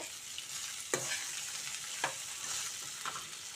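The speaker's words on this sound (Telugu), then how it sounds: "ఇలా మనం తిప్పుకుంటూ, మాడిపోకుండా ఇలా కలుపుకుంటూ ఉండాలండి." Sliced okra stir-fried in a pan, a soft steady sizzle with three distinct scraping stirs spaced about a second apart, fairly quiet and close.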